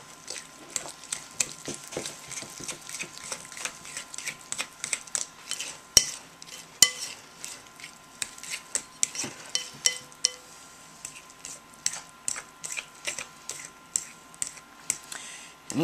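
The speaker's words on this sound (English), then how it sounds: "And you should mix kind of slowly" A spoon works flour into a thick dough in a bowl for hop yeast cakes, giving a steady run of small, close scraping clicks and taps at a slow, uneven pace.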